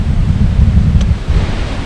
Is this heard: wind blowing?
yes